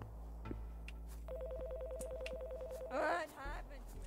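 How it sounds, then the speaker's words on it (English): A telephone rings in a horror video game as a steady, rapidly pulsing electronic trill that runs for about two seconds over a low background drone, followed by a brief warbling burst. "I have to answer the phone again."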